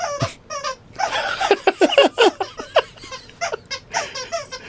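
An excited dog plays hard with a loud toy, giving a rapid run of sharp squeaky bursts and yelping, laugh-like sounds in quick uneven succession, fairly close and loud.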